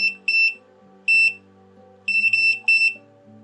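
A series of sharp electronic beeps from a Mustool MDS120M oscilloscope, single and then in quick clusters, clear and close against near silence.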